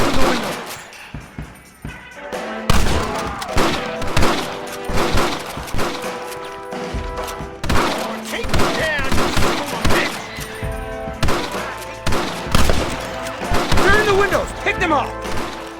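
Gunfire at snipers in windows in the Red Dead Redemption video game on PC, repeated loud close shots and volleys with shouting voices over a game score.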